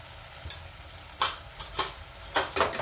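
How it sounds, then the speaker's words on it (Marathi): Masala being sautéed with salt and turmeric for a spicy brinjal curry, a spoon stirring it in a pan in several scraping strokes over a steady low sizzle, with no voices. "मसाला थोडा परतला, आपण आता चवीनुसार मीठ टाकू, थोडीशी हळद टाकू,"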